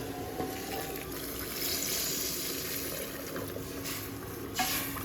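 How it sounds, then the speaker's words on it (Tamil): Water is added to prawn head gravy in a pan, a faint continuous trickling and pouring noise that runs steadily throughout at low level. "இது வேகத்துக்கு தண்ணி ஆட் பண்ணிக்கலாம்."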